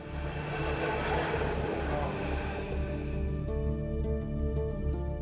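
A Paris metro train rumbles and rattles along, loud at first, then settling into a steadier hum with tonal whine as it slows.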